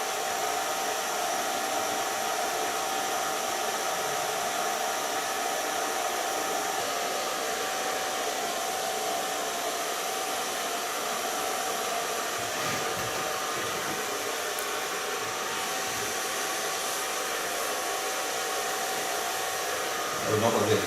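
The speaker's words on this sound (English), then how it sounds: "So take my diffuser. Just hang the hairs into the diffuser." A hair dryer fitted with a diffuser blows steadily while drying permed curly hair, a continuous close, even whoosh holding level for about twenty seconds with no talk.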